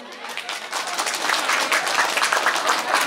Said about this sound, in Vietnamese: Xin chúng ta chúc họ một tràng pháo tay thật lớn.